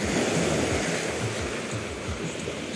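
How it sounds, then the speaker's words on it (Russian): Small sea waves rolling onto a pebbly August beach at Serebryany near Balaklava, Sevastopol, a steady close wash of surf with repeated low churning surges and no voices. "Небольшое волнение на море."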